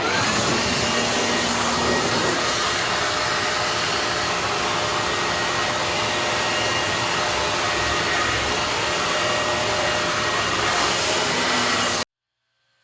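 A dust collector on a Ridgid R4512 drones with a steady, loud broadband rush for about twelve seconds, then cuts off abruptly.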